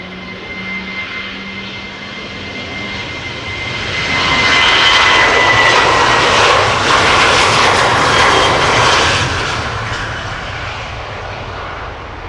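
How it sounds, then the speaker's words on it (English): A KLM Boeing 737-700 jet passes at Amsterdam Schiphol Airport, its steady engine roar swelling louder through the middle and then easing off, with no talking. "It's a 737-700."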